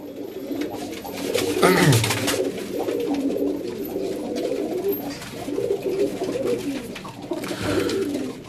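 Sherdil pigeons, a family breed kept for 90 years, coo steadily and close by, their low throaty calls overlapping in a continuous murmur with no voices.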